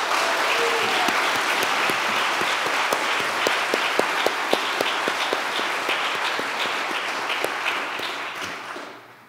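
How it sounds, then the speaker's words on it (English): Sustained audience applause after a Martin Luther King Jr. Day keynote fills the hall, thick and even with sharp individual claps poking through, tapering off at the very end. "So please give him another round of applause."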